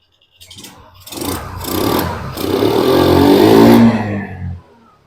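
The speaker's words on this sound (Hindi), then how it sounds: "एक किक में ही गाड़ी स्टार्ट हो चुकी है हमारी" A TVS Jupiter BS3 scooter engine fires after a kick start and revs briefly, a loud, close buzzing burst lasting about four seconds before cutting off, with no talking.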